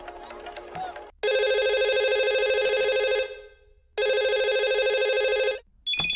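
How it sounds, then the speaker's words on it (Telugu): A telephone in a comedy film scene rings in two long, loud electronic tones, each held for over two seconds with a pause between them. A voice is heard briefly just before the first ring. "అరే జల్దీ ఫోన్ ఎత్తండి రా బాయ్"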